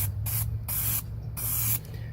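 Spray gun coating a 2003 Cadillac CTS driver's quarter panel: loud hissing bursts in short on-off passes, four pulses with brief gaps, over a low steady compressor hum.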